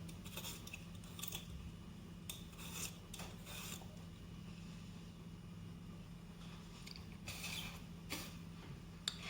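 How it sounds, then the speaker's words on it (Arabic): Potatoes being peeled by hand, repeated short scraping rasps in uneven bursts, quiet and close against a low steady background hum. "هقشر البطاطس بتاعتي"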